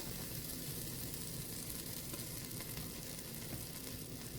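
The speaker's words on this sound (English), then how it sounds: "I'm going to put in just a little bit of olive oil" A small amount of olive oil sizzles in a hot pan with a steady, soft, even hiss that stays faint and unchanging throughout.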